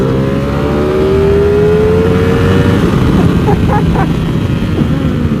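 A Ducati Panigale V4 SP fitted with a Termignoni titanium exhaust roars loudly at speed, its engine note climbing steadily under heavy wind rush, then settling into a sustained drone.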